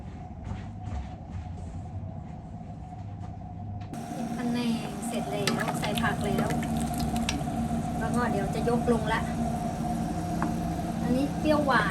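Yellow noodles stir-fried at a food truck, with a steady hiss and scraping that swells after a few seconds of quieter kitchen noise, while people talk throughout.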